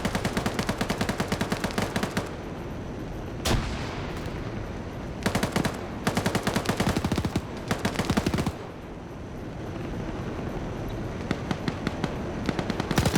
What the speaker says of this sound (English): Oh, so he found an MG3.